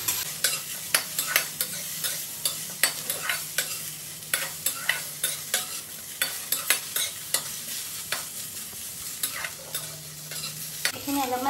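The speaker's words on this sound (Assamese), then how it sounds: "সেইখিনি মাংস আমি অকণমান ভাজি দিম" Boiled pork frying without oil in a pan, with a steady run of scraping stir strokes over a low sizzle, close and alone with no talk.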